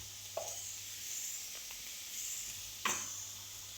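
Cumin seeds tempering in hot oil give a steady soft sizzle, broken by two brief sharper crackles, quiet and close, with no talking.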